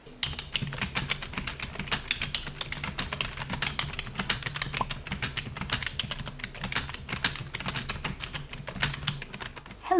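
Fast, continuous keystrokes rattle on a computer keyboard during a long writing session, a close, busy clatter of clicks with brief pauses and no talking.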